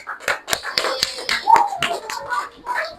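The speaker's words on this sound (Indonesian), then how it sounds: "tepuk tangan buat kelompok terakhir" A classroom group in an Indonesian primary school claps for the last presenting group: scattered, uneven hand claps and taps in a loose rhythm, close and fairly loud, with some children's voices mixed in.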